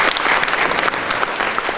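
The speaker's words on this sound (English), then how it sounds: "They deserve a better clap." Loud, dense audience applause at a national student economics debate, close and continuous across the short stretch with no voices over it.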